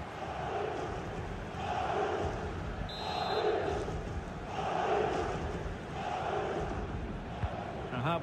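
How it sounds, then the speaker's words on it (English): Stadium crowd in the FC 24 video game during a Real Madrid vs Barcelona friendly, a steady broad roar that swells and dips in rhythmic waves of chanting, loud and continuous throughout, with a brief high electronic tone partway through. "The crowd encouraging him to take it on."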